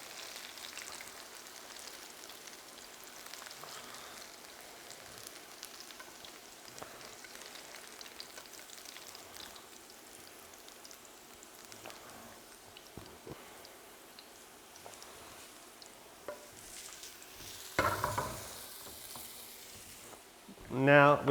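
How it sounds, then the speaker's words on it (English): Zucchini and feta fritters fry in oil with a faint, continuous crackling sizzle and scattered spits, growing louder near the end with a burst of clatter. "stand back, it may spit a little bit. You want to fry that up."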